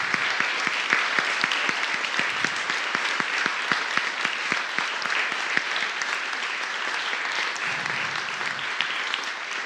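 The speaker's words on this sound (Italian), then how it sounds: "io farei un altro grosso applauso" A large concert audience applauds steadily after choir performances, a dense wash of clapping that stays loud and even throughout.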